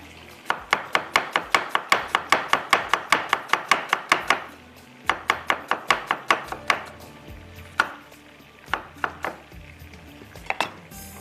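Half an onion being chopped on a board in a kitchen: a fast, steady run of sharp knife strikes, a pause, then another quick burst followed by slower, scattered cuts, close and clear with no talk.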